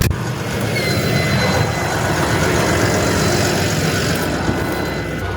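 A Deutz tractor engine runs steadily nearby with a loud, continuous low rumble and broad mechanical hiss and a faint whine on top. The level stays even throughout, with no voices.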